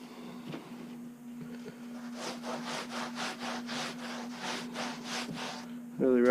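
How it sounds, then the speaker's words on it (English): Sawdust rubbed by hand over a fleshed otter skin, a close run of about ten rhythmic scratchy strokes over a steady low hum, with a brief louder tonal sound at the very end. "Really rub that sawdust on there."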